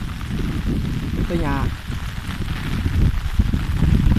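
Heavy rain pours during a tropical storm over rice fields, a dense continuous roar of falling water with someone speaking briefly over it.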